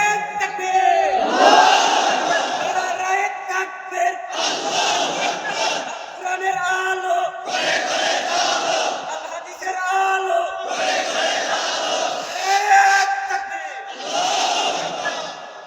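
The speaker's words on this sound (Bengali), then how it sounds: "একটা মুজাহিদ তাকবীর লাগান, নারায়ে তাকবীর থেকে।" A sermon crowd shouts the takbir chant back in unison, a loud roaring group cry repeated in about four distinct waves with short gaps between them.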